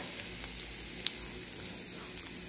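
Ground masala sizzles steadily in a pan while a broad bean and tomato curry is cooked, a soft continuous crackle with one sharp tick partway through and no voices.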